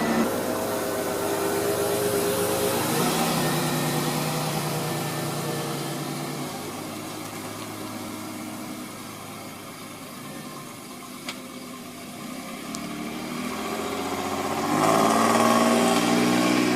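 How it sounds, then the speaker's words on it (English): A restored barn-find classic car runs on a test drive, its engine droning steadily and shifting pitch as it speeds up and eases off, then swelling louder near the end, with no talking. "I'm taking a drive in my car today."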